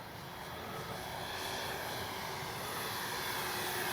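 A FlightLine B-25 radio-controlled model bomber flies a low pass with its landing gear down, its twin engines making a steady droning roar that grows slightly louder as it approaches.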